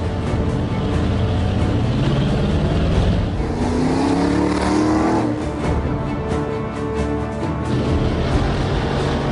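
Ford Raptor trucks leaving the start line of a Baja desert race, engine roaring loud and close as it climbs through the revs, with a broad rumble and a rising whine under steady crowd and outdoor noise.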